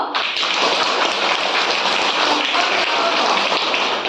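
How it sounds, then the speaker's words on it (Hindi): Children in a classroom clap their hands together in a dense, continuous burst of applause that holds steady and loud from start to finish. "तो ताली बजाओ"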